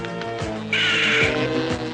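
A crow caws loudly and close by, several harsh repeated calls over a steady background hum.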